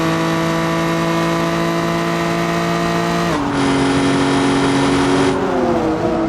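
Car engine in a racing video game at the Bathurst circuit, holding a steady high-pitched drone under gearbox strain, then the pitch drops abruptly and settles into a lower sustained whine; loud and continuous, no talk.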